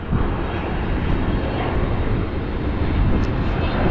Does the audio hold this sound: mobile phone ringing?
no